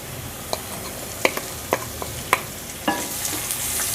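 Garlic, ginger and green chillies fry in a pan with a steady hiss, broken by sharp clinks and scrapes of stirring at irregular intervals; the sizzle swells brighter near the end.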